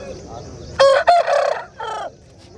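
A single Aseel rooster crows loudly and close by at a Saturday poultry market in Mydukuru, one broken multi-part crow standing clear over faint background murmur.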